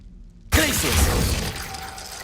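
Glacius ice spell cast in Hogwarts Legacy gameplay: a sudden loud burst of shattering, crackling noise after a brief quiet start, then a sustained bright rush that slowly fades.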